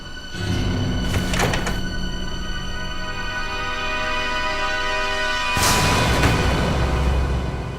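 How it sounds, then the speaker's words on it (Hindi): A door is broken open in an indoor scene of the Hindi crime drama CID, with two loud, sharp crashing blows a few seconds apart over a constant background hum and no speech. "दरवाजा क्यों तोड़ रहे हो?"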